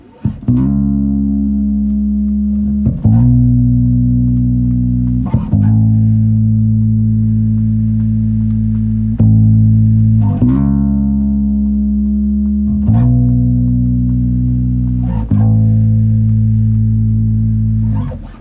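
Electric guitar notes plucked one at a time, each sliding up into pitch and sustaining, imitating a double bass with a deep, bass-like thump in a slow repeating pattern.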